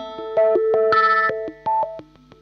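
An electric guitar played through an effects unit for the TAYT solo sound, a quick phrase of distorted, echoing notes with sharp picked attacks, some held and some short, alone and up close.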